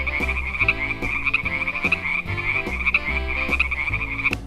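An orange frog toy plays a loud, steady croaking sound in a repeating rhythmic pattern over a looping electronic tune, close and clear.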